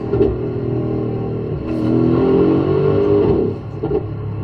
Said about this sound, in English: here's the sound, what that SUV sounds like that's coming in next week